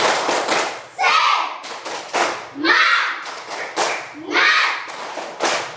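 Schoolchildren in a fifth-grade class perform a rhythmic 'tepuk semangat' clapping routine, with sharp clap bursts in a repeating pattern mixed with loud group chanting, close and lively.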